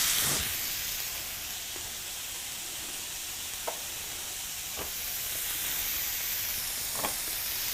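Bacon strips frying in a pan with a soft, steady sizzle and hiss at low volume, a few small pops and clicks from a utensil scattered through.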